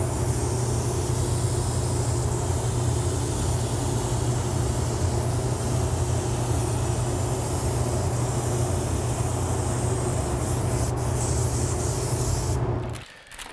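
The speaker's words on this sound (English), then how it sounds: "We are all done spraying the black, and actually all I used for this was our Wicked Black" Spray gun laying down Wicked Black automotive paint while graphics are painted over an existing finish, a loud steady hiss of compressed air and atomized paint that runs unbroken for over twelve seconds, then cuts off abruptly.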